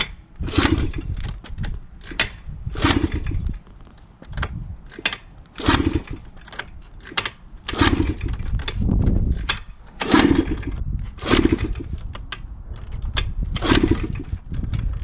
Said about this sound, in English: I just want to see if the engine works good